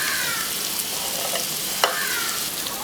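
Diced capsicum and chopped tomatoes frying in a pan for masala khichdi, a steady close sizzle with occasional stirring scrapes.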